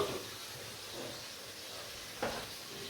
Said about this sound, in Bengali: এখানে আমার মাংস রান্না হচ্ছে।